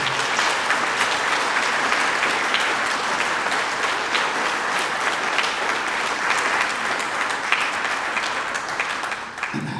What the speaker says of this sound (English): if we could just give a round of applause for Jessica and all that she did for us